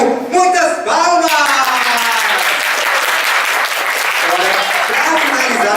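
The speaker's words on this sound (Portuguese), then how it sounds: "Muitas palmas!" A crowd breaks into loud, sustained applause, steady clapping filling the space, with some voices briefly audible over it at the start.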